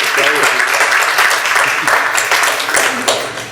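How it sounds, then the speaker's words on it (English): Applause from an event audience at a university speaker event, a dense, loud and continuous burst of clapping with some voices underneath. "Let's give ourselves a round of applause,"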